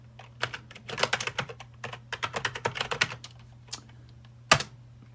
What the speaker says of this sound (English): we're gonna type in our user info, so our name and company